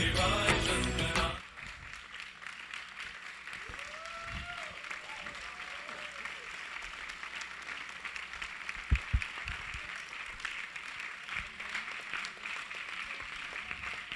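Audience applause after a staged enactment of a divine drama at an evening devotional event, a burst of clapping at the start, then a steady wash of crowd noise with some voices underneath.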